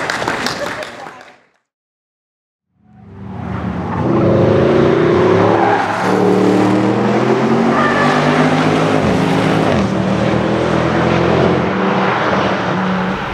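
A Mercedes C63 AMG Coupé Black Series drives at Laguna Seca, a short burst of sound, a moment of silence, then a loud, sustained engine note with rising and shifting tones.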